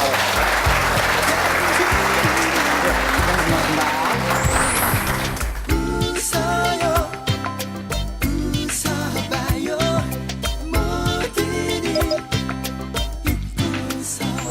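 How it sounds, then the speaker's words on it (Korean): Audience applause at a company gathering, a dense burst of clapping in the first few seconds that gives way to loud, rhythmic music with strong beats for the rest. "예, 박수 한번 주십시오."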